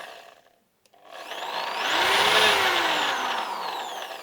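A new Zubr power drill spins up after a brief pause, its whine rising and holding steady while a faint foreign rattle rubs and clicks inside the housing, loud and close.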